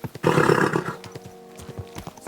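A horse in Kingdom Come: Deliverance 2 gives a loud, close neigh lasting about a second, then snorts and a run of clip-clopping hooves continue underneath.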